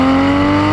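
A Porsche 911 (991) GT3 RS sports car engine drones steadily at a constant pitch, close and loud, with a smooth, even tone.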